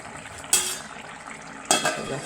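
Two sharp metallic clanks a little over a second apart as a lid is set onto a cooking pan in a home kitchen, close and crisp over a quiet background.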